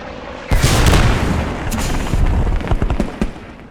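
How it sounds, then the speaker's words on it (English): Loud, close gunfire and booming explosions from the video game Post Scriptum, a sudden blast followed by a dense rattle of shots and sharp cracks. "Explosions and gunfire can be heard from miles away"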